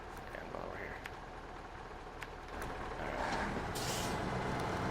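In SnowRunner, a truck's air brake system lets out a soft hiss and then a brighter burst of released air over a low idling engine, fairly quiet overall with a voice speaking.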